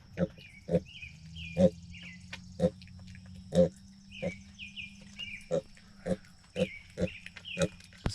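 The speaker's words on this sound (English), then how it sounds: "He's a mini potbelly pig" A six-week-old mini potbelly pig on a summer farm gives short grunts and oinks in an irregular series, close and fairly quiet, with chirping birds or insects around it.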